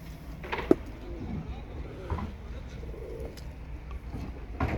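Pigeons coo softly and repeatedly, and a stray scissor-tailed pigeon arrives with a quick flutter, while someone talks quietly over the birds.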